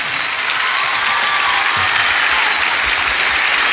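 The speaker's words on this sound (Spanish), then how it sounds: "Quiero un fuerte aplauso para Jerónimo Lozano" Theatre audience at Teatro Gran Rex gives a performer a loud, continuous round of applause, dense clapping from a large crowd filling the hall throughout.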